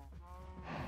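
Cows low in the Minecraft video game, one drawn-out bovine moo that is clear and close and rises slightly toward its end, with no speech over it.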